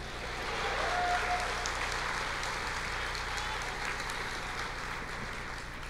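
Church congregation applauding in a sustained wash of clapping, steady and moderately loud, with a voice talking faintly beneath it.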